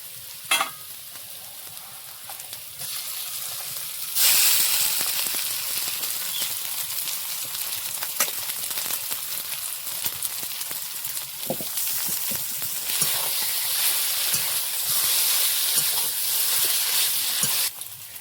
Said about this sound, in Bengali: এবার আমি ম্যারিনেট করা আলুটাও এর মধ্যে দিয়ে দেবো।